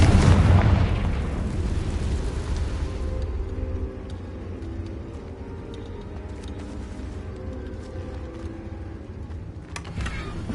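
A Confringo spell blast in Hogwarts Legacy detonates with a loud, deep booming explosion at the start, then a long rumbling decay with faint crackles and a small pop near the end.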